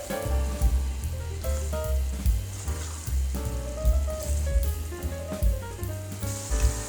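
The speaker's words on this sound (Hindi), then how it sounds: "अब मटर के साथ भी इसको अच्छी तरह से भूनेंगे तकरीबन 2 से 3 मिनट के लिए" Minced beef and peas bhuna-frying in a pan, giving a steady sizzle and soft crackle that runs underneath prominent background music.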